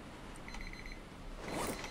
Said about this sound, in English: Shut up, timer.